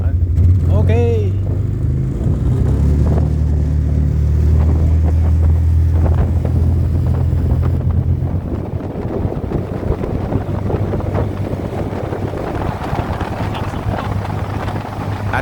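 The engine of a kuliklik farm vehicle drones steadily while carrying riders through an orange farm in the hills, heavily buffeted by wind rumble, with a brief rising squeal near the start.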